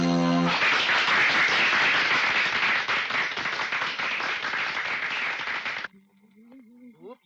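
Party guests burst into loud, dense applause at an anniversary celebration in a Hindi-dubbed South Indian film scene, sustained for several seconds before cutting off abruptly to quiet, with a voice and faint tones following.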